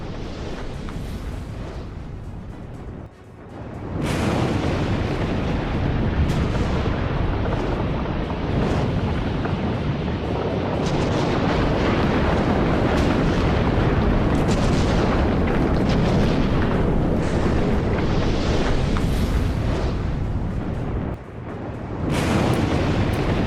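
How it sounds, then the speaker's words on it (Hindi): Eruption of the Santiago volcano, a sustained deep rumbling roar with repeated booming bursts, loud and continuous apart from brief dips near the start and end. "सैंटियागो ज्वालामुखी में विस्फोट का वीडियो आया सामने"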